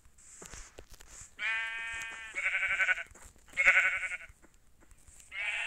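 Several synthetic sheep bleats from a video game in a row, loud and close, each a wavering baa separated by short pauses.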